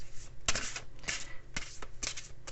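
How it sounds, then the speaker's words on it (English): Large oracle cards being shuffled by hand, a series of crisp papery riffles and slides in bursts about every half second, close and fairly quiet with no talking. "big cards, so they're kind of hard to shuffle around here"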